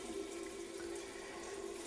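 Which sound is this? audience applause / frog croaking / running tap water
running tap water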